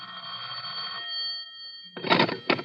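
An old telephone bell rings in a radio drama, a steady metallic ring for about a second, then a pause, then two shorter bursts, heard alone and fairly close.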